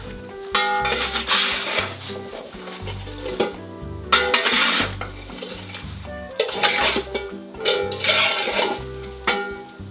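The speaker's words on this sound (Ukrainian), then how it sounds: "Жар згортаємо в один бік." Embers are raked to one side inside a bread oven with a metal tool, giving repeated scraping and clinking strokes in bursts over a low, steady tonal background, with no one talking.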